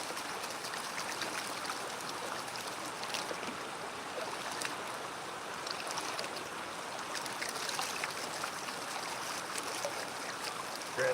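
Water rinses material across a Garrett gold pan while prospecting black sand on a river bar, a steady moderately faint sloshing and trickling wash that continues evenly throughout with no talk.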